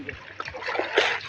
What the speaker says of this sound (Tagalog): Buhusan natin ng tabo.